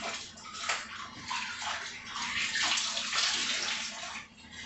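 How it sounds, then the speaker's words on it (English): Hands rinsed under a running tap after handling batter for fried salmon bites, giving a steady splashing water stream with small sloshes, close and continuous throughout. "So I'm rinsing my hands off again."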